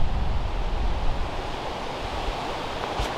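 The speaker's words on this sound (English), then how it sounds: "As you can hear, it's the wind." Strong, gusty wind roars across the microphone on an open disc golf course, a steady loud rush that fills the whole clip with no voices.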